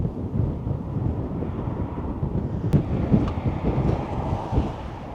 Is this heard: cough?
no